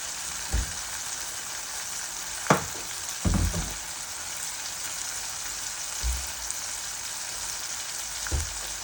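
Potatoes fry in hot oil with a continuous bright sizzle and hiss, punctuated by a few soft, low knocks from the pan and spoon; no voices.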